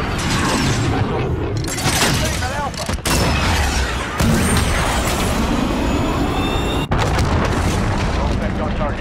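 A cruise missile launches and explodes in Call of Duty Modern Warfare multiplayer, with loud booming blasts, abrupt cuts and a sustained roaring rush mixed with radio-style voices talking.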